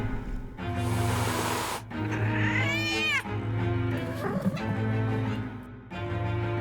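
A cartoon cat yowls and caterwauls in loud, drawn-out, pitch-sliding cries, with short gaps between outbursts and a rising whine in the middle, no talking over it.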